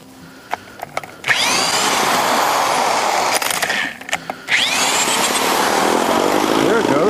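A 1965 Evinrude 3 hp outboard motor sputters, catches after a pause, then roars into a loud steady run with a brief dip midway before revving back up, close by, with a few clicks and knocks before it starts.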